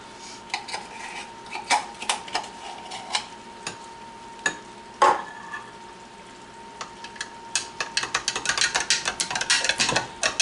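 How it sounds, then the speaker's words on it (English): Candy corn fudge mixture being stirred in a pot: a spoon clinks and taps against the metal sides, sparse at first, then a quick, regular run of scraping knocks toward the end. "I'm just going to stir it."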